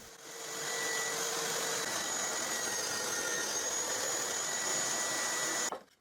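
A power saw with a saw disc cuts through a wooden workpiece in one steady, loud, continuous whine that runs for several seconds and then stops abruptly.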